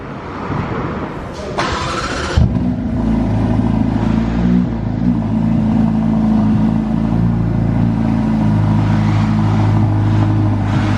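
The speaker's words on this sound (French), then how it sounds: "Là, il y a un cold start-up de Ferrari Roma" Ferrari Roma cold start at a Monte Carlo dealership: a brief starter whir, then the engine catches with a loud flare and settles into a steady, rumbling elevated idle, close and alone.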